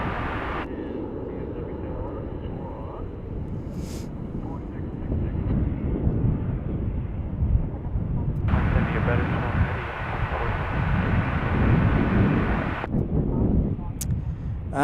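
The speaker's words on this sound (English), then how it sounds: "So this is a MAX 8 arrival. Again, key United MAX 8 arrival here" A United Airlines Boeing 737 MAX 8 lands at DFW airport, a broad engine roar that swells mid-clip and fades near the end, heard at a distance under intermittent talk and wind.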